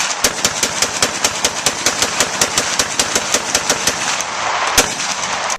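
A hand-cranked Gatling gun firing a fast, steady stream of loud, sharp reports at an even rhythm, close and continuous for several seconds with no voices.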